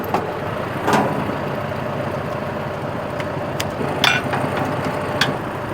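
A tractor engine idles steadily at a low rumble before a mower is hitched for first-cut grass silage, with a few faint knocks and clicks over the constant drone and no talk.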